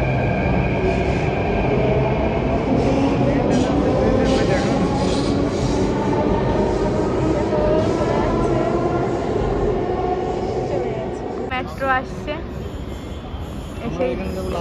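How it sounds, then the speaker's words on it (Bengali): A Delhi metro train rumbles loudly and steadily past a station platform, followed by higher squealing and whining as the next train arrives, with people's voices faintly audible underneath. "এই যে মেট্রো চলে যাচ্ছে একটা, এবার আমাদের মেট্রো আসবে"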